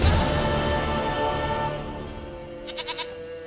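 A goat in The Witcher 3 video game gives a quick series of short bleats over a fading background music tone.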